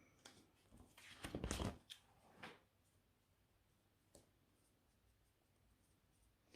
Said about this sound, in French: J'écris mal, mais parce que j'essaie d'écrire vite en fait.